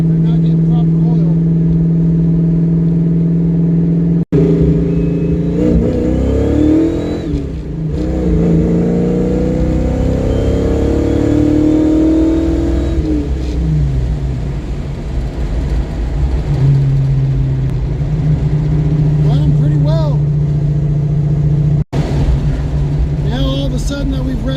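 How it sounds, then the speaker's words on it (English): A project car's engine, recently fitted with a new fuel system and harmonic balancer, idles loudly and then revs up and down with a knocking fault. Its rough rumble climbs and falls while people talk nearby. "Sudden that we've revved it up a little, that knocking is back."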